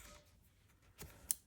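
Scissors make a quiet, brief snip while paper stationery is cut, a single faint crisp cut at close range in a quiet room.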